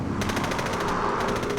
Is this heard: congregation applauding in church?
no